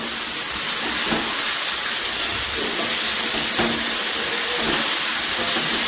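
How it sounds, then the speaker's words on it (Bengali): Boiled potatoes fry in spiced oil in a pan for a vegetarian Bengali aloo dum, giving a loud, steady sizzling hiss that carries on unbroken, with no voices over it. "এখন আমি এর মধ্যে সিদ্ধ করা আলুগুলো দিয়ে দিচ্ছি। এটা দিয়ে একটু কষবো"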